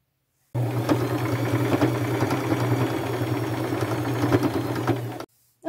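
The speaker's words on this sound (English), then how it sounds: "I am just going to go back to my machine and sew it at that chalk line" A sewing machine stitches along a chalk line on a skirt, running steadily with a close mechanical hum and rapid clatter for about five seconds, then stopping.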